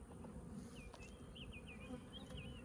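Honeybees buzzing steadily around an open hive in a bee yard, a close, continuous drone with individual bees whining past and nearby handling noises.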